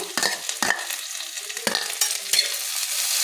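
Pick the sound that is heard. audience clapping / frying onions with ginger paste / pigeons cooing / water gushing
frying onions with ginger paste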